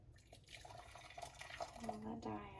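Water trickling and splashing into a dye pot, a quiet running pour with small drips and gurgles that gradually fills, heard close up with no talk.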